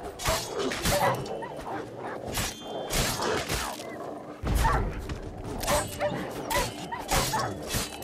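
Wild dogs around a graveyard in The Witcher 3: Wild Hunt bark and yip in repeated sharp bursts over several seconds, mixed with creaks and a low in-game background.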